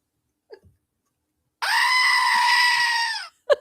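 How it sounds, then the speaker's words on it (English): A squeeze toy goat lets out one long, loud, harmonic bleating scream lasting under two seconds, with a few faint clicks and handling sounds around it. "That is a goat toy. It screams."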